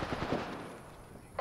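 Gunfire in the video game Apex Legends: a short burst of rapid game gunshots at the start, then a softer stretch and one brighter crack near the end.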